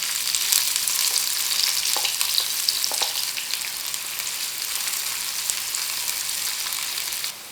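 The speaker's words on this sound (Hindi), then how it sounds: "अब हम इसमें थोड़ा सा और ऑयल डालेंगे और इसमें अपनी प्याज फ्राई करेंगे" Onions frying in oil in a pan for mutton nargisi kofta, a loud, steady crackling sizzle with a few stirring scrapes, ending abruptly.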